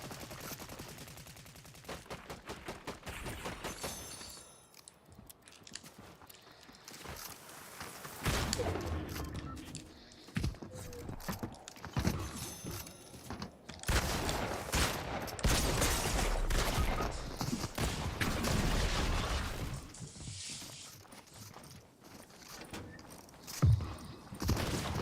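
Rapid gunfire from the video game Fortnite rattles in repeated bursts and sustained automatic volleys, loud and close, with short pauses between strings of shots and a few heavier thumps.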